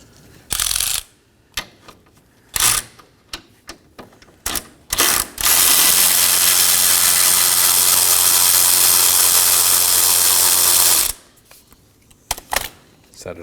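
A ratchet loosens the single 10mm bolt holding the horn and bracket on a 2018-2024 Chevrolet Equinox 1.5L, with scattered clicks and clunks, then a long loud continuous ratcheting whir lasting several seconds, followed by a few more clicks.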